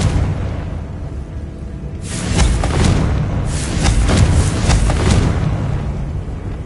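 Confringo fire spell going off in Hogwarts Legacy: a pair of heavy, booming explosive blasts with crackling bursts, the first hitting at about two seconds and a fuller, longer one following shortly after, above a low, steady rumble.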